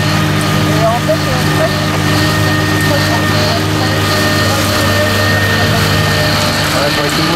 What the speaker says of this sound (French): avec le tracteur, j'entends rien